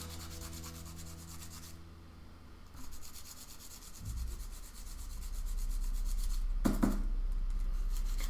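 A pastel stick is rubbed against a Faber-Castell sandpaper sharpener, giving a close, soft scratchy rasping that grows steadier toward the end over a faint background hum.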